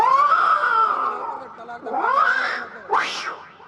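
Two cats fight with long, wailing caterwauls and rising screeches, loud and close, the yowls swelling and breaking into a final sharp shriek.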